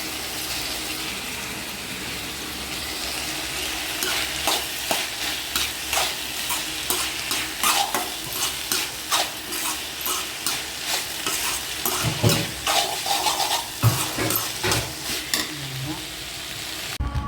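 Coconut poriyal stir-fried in a pan, a steady close sizzle broken by a long run of quick rhythmic scraping strokes of a spoon against the pan, growing busier toward the end.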